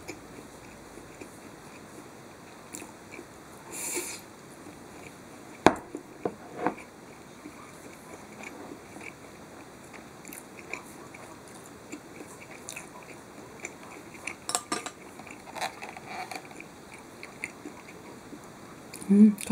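Someone eats spicy mentaiko rice with cutlery, with faint chewing, soft clicks of utensils and scattered sharper taps spread over a quiet background, plus occasional brief bits of voice.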